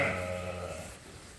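Sheep on a farm, including Texel crosses, bleat loudly and close at hand in a single drawn-out call that fades over a second or so.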